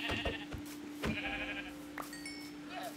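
A sheep bleats a few times in the Minecraft video game, soft and short. A steady tone hums underneath, along with faint game clicks and chimes.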